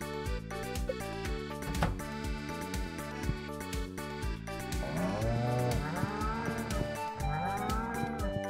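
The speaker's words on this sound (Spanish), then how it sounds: "Vamos a abrir a las pobres vacas." Cows mooing in the video game Stardew Valley, several drawn-out low moos rising and falling over a steady musical backdrop, with calls clustering in the second half.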